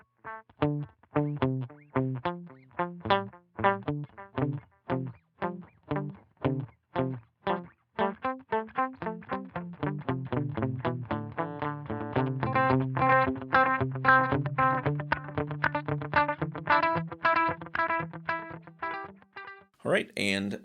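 An electric guitar plays through a Dolamo digital delay pedal, with plucked notes and chords trailing rhythmic echoing repeats that thicken into a sustained layered wash in the second half.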